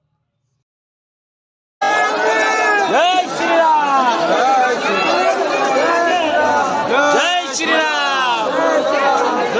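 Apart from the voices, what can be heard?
large crowd of pilgrims near the Ram temple in Ayodhya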